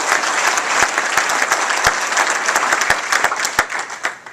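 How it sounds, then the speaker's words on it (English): An audience at a 2010 panel event breaks into sustained applause, dense clapping holding steady throughout with sharp individual claps standing out, fairly close and loud, no talking over it. "could you just join me in another round of applause"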